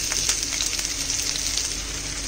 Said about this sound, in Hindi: अब इसमें हम अपने कटे हुए प्याज डाल देंगे